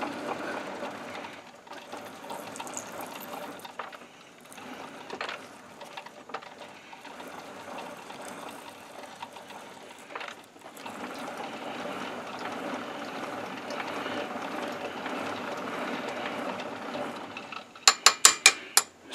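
Hand-tapping threads into a hole for a press ram extension, a continuous low grinding, ratcheting mechanical noise with brief pauses, ending in a burst of sharp metallic clicks, no talking.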